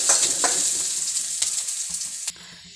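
Oil sizzling steadily as green chili and onion fry, a bright crackling hiss with occasional pops, then it quiets abruptly near the end.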